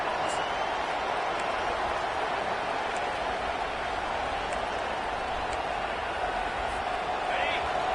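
Stadium crowd roaring steadily at a college football game in NCAA 25, UCLA versus Georgia, a loud continuous wash of massed voices and cheering that holds for the full stretch, with faint whistles above it.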